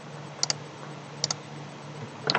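Several quick bursts of computer keyboard keystrokes, typing and deleting entries, come in short clusters with quiet pauses between them. A denser flurry of key clicks ends the passage, close and fairly soft over a low steady room hum.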